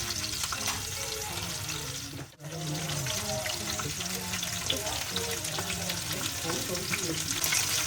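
A pan of besan batter fries lightly with a pinch of salt in a home kitchen, giving a steady soft sizzle with a brief cutoff near the start and faint clinks and movement throughout.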